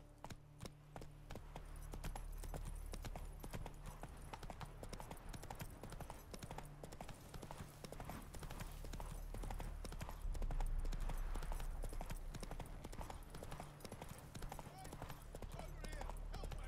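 Hooves of Roach, the horse in The Witcher 3, beat in a fast, steady galloping rhythm of clip-clops close by. Low ambient game sound runs beneath and lifts briefly near the middle.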